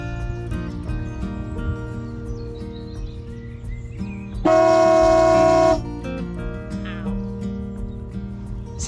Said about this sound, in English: Sounds like air horns, doesn't it?